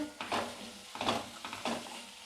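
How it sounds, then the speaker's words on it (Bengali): Mutton masala with turmeric is stirred in a pan: three or four rhythmic scraping strokes over a low sizzle, close and moderately loud. "এটা ভালো করে এখানে একটুখানি নাড়িয়ে নেব"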